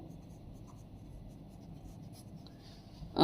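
Pen or pencil scratching steadily on paper while writing a handwritten answer to a Class 6 maths construction problem, a quiet continuous rubbing texture ending in a louder brush or knock.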